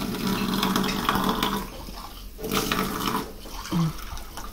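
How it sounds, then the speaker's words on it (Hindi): A tea cup is washed under running water, with splashing and a steady gurgling stream that pauses briefly midway before resuming, plus a faint clink near the end. "जरा हम इसको कप को भी धो के रख दें।"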